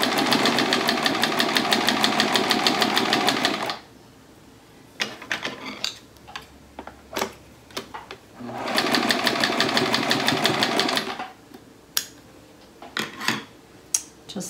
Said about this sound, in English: now we're going to sew the first square to the sashing